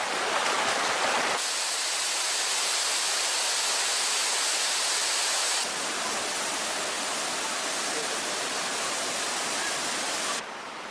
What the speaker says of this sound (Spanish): A 60 grados caen de las cascadas.